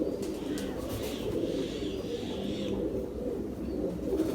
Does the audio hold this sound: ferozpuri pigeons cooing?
yes